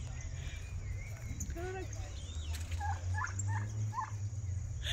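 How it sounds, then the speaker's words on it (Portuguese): Several turkeys gobble in quick, warbling bursts amid outdoor background noise, with people talking faintly nearby. "O barulhinho do peru é demais!"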